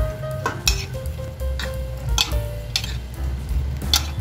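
A utensil beats an egg and anchovy omelette mixture seasoned with pepper and salt in a bowl, with repeated clinking taps and scraping strokes at a brisk, uneven rhythm, heard close.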